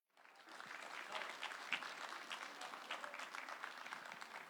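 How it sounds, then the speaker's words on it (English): Applause from an audience at a Chicago celebration of Indian Republic Day, a steady, dense wash of many hands clapping together, fairly faint and distant, rising quickly and holding without talk. "Please give a big round of applause to Ajit Singh"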